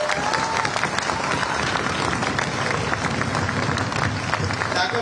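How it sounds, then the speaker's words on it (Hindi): Loud, dense audience applause at the Biju Patnaik Sports Awards ceremony, a continuous even roar of clapping from a large crowd throughout, with voices mixed in. "जोरदार करताली हो"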